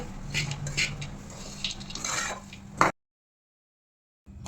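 Makhana powder with cashews and almonds being mixed in a pan, with close scraping and light metallic clinks of a spoon for a few seconds, then an abrupt silence before faint sound returns.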